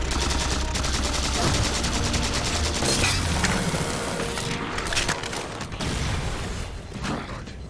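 Dense, continuous gunfire from the new sniper rifle in Halo 4, with heavy battle noise and overlapping shots filling the whole stretch at steady loudness; a voice can be heard briefly.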